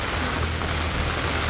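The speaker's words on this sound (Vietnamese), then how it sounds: "Trời đang mưa như vậy rồi để bé Tú phải nằm ở trong đó." Steady rain falling outdoors in a downpour, a dense, continuous hiss of drops close by with no pauses and no voices.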